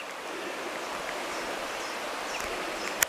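Continuous rushing of river water flowing steadily, a broad even wash of sound with a brief click at the very end.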